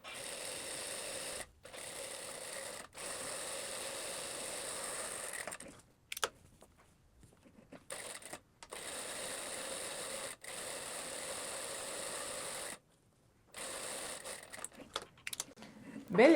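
A sewing machine hums steadily while topstitching a seam on a blouse, running in several long stretches broken by short pauses and near-silent gaps, with small handling clicks between runs.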